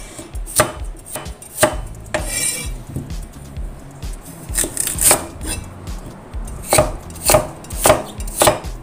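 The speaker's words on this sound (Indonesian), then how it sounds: "Lalu iris wortelnya sesuai dengan irisan daripada kentang tadi ya." A knife chops carrots with their tips trimmed off on a board for chicken, potato and carrot stew, sounding as a series of crisp, close cuts in uneven rhythm, with faint clinks of kitchenware between strokes.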